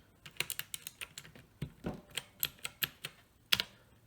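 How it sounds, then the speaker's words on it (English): Keycaps being pulled off an Uhuru UMK-100 wired 60% mechanical keyboard with blue switches, a quiet, close run of a dozen or so sharp plastic clicks at an irregular pace. "So the keys do come off"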